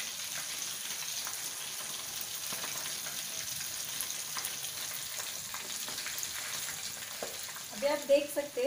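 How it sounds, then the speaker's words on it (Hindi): Faraali vada frying in hot oil, a dense, steady crackling sizzle close by, with a few louder bubbling bursts toward the end. "अभी आप देख सकते हैं जो वड़ा है वो फ्राई हो रहा है"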